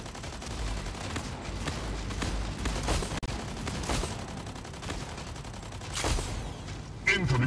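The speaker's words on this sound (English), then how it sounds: "Incoming fire!" Rapid gunfire and explosions from the mech combat video game Mech Arena fill the whole stretch as dense, loud, continuous bursts, with a voice speaking over the action.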